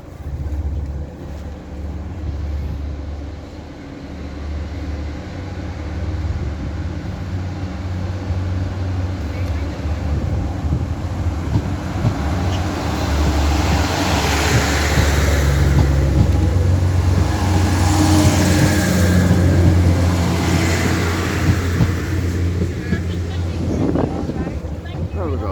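A train pulls into Whitehead station with a deep engine rumble that swells over about twenty seconds. Wind buffets the microphone throughout, and the noise grows louder as the train draws near.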